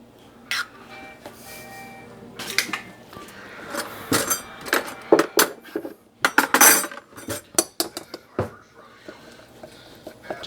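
Sour cream and a whole egg being mixed in a bowl for keto naan, with repeated clinking and scraping of a utensil against the bowl in irregular bursts, growing busier toward the end.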